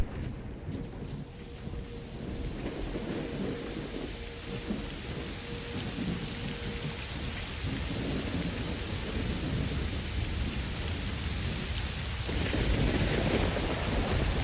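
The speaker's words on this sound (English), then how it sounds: "This storm is pretty bad." Heavy rain pours steadily in a thunderstorm in the video game S.T.A.L.K.E.R. Shadow of Chernobyl, with crackling thunder at the start and a low, continuous rumble building under the downpour.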